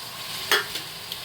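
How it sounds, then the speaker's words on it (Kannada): Fresh field beans and mutton keema frying in a little oil with greens, giving a short burst of sizzle and a stirring scrape over a soft steady background, with no voices. "ಇದೊಂದು ಸ್ವಲ್ಪ ಎಣ್ಣೆಲಿ ಬಾಡಿಸ್ಕೊಂಬಿಡೋಣ ಅವರೆಕಾಳು ಜೊತೆಗೆ"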